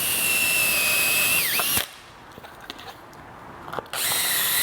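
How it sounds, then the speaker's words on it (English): A step drill bit bores holes into a plastic scooter topcase for a Piaggio Liberty, a loud high whine that rises and dips, stops for a couple of seconds of quiet handling noise, then starts again. "Your goal is to drill the holes out to about 18 millimeters."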